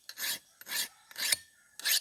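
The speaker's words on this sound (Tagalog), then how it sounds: "Pero ito, kunting hasa na lang ito," A bolo knife (itak) scraped across a sharpening stone in four long rasping strokes with brief pauses between, close and clear with no talking.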